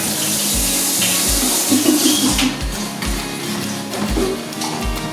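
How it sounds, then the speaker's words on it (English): Running tap water splashes steadily into a sink as hands are washed on a commercial farm, with a close, continuous gushing stream and a rhythmic low pump-like thumping underneath. "I'm gonna wash my hands"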